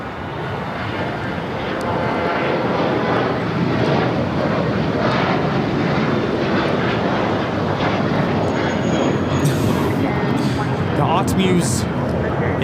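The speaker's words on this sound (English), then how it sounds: "That would be the Emirates A380." Emirates Airbus A380 airliner at LAX, a steady loud broadband jet engine roar that holds throughout without pause, with talk from people nearby running over it.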